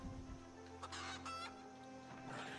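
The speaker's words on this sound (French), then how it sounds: "Merci les poules. Merci les petites poupoules." Chickens cluck in the Project Zomboid video game, a few short, faint squawking bursts over a low game hum.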